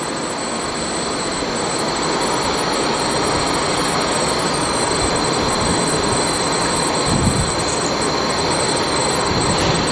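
A DC servomotor in a control systems lab spins with a magnetic brake load applied, giving a steady, loud broadband whir with a constant high whine that runs unbroken throughout, with no voices.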